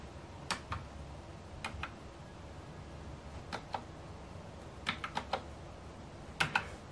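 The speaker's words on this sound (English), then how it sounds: "type the pin on your G915X and press enter" Keys on a Logitech G915 X low-profile wireless gaming keyboard are pressed to enter a PIN, giving light, crisp clicks in small clusters of two to four with pauses between, close up over a quiet background.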